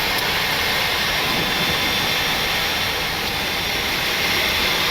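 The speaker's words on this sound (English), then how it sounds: "Shutting down both engines." Twin jet engines of a Norwegian Boeing 737-800 idle before shutdown, a steady, loud broadband roar with a high whine heard from the cockpit, constant throughout without talk.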